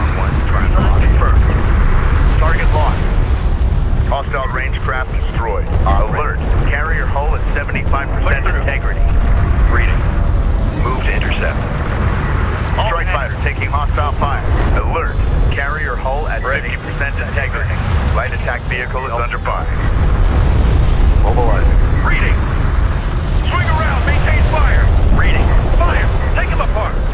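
Battle sounds from the Homeworld: Deserts of Kharak strategy game, with railgun fire and heavy explosions rumbling continuously while radio-style unit voices and announcements chatter over the top throughout.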